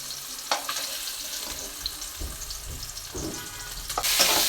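Onion, green chili and tomato sizzle and fry in leftover fish-frying oil, a steady close crackle with stirring scrapes and a louder burst near the end.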